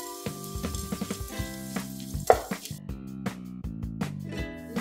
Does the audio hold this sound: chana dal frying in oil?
yes